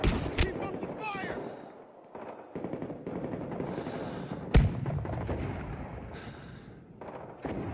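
Rapid automatic gunfire and sharp shots crackle through a firefight in Rising Storm 2: Vietnam, with a loud bang near the midpoint over constant battle noise and voices talking.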